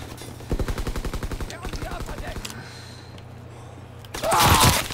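Machine-gun fire in the Call of Duty WWII video game: a rapid, evenly spaced burst of loud shots that thins out, then a louder blast toward the end.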